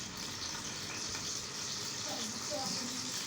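Finely chopped onions hitting hot oil in a pan for a potato and fish broth, a steady dense sizzle with a faint bubbling undertone, close and continuous.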